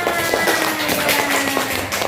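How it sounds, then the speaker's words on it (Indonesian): A class of pupils claps for a classmate named Akila in a short, close burst of quick, uneven hand claps inside a classroom. "tepuk tangan buat Akila"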